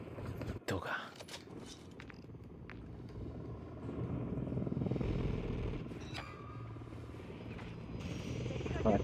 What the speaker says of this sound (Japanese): ヘリか。